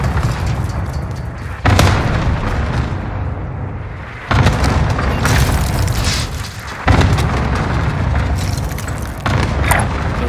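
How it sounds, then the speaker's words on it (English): Cluster strike explosions in Call of Duty Modern Warfare, a series of heavy booming blasts arriving in waves with rumbling debris between them, loud and close, no talk. "Cluster strike away."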